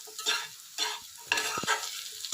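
Potatoes frying in a pan are stirred in a few quick scraping strokes over a soft sizzle, each stir a short, close burst of scraping and clatter.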